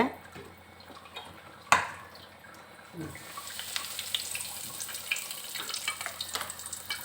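Curry leaves dropped into hot oil with the stove switched off, giving a sharp crackle followed by a steady, close frying sizzle that continues throughout the clip.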